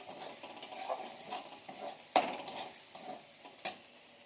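Koi fish curry being stirred in a pan with spices, giving a soft scraping and gentle sizzle with one sharper clink of utensil against metal midway, close and fairly quiet with no talk.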